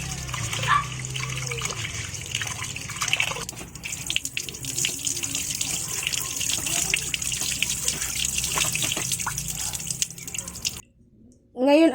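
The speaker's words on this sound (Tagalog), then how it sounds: "Huhugasan lang po natin ulit at itapon po natin ang mga excess water po" Soaked rice is rinsed again and the excess water poured off: continuous running, splashing water at a sink, fairly close, with a brief drop near the end before the flow resumes.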